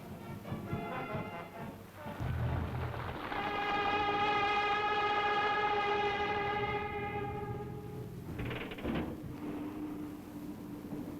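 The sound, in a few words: Tokaido Shinkansen maiden train departing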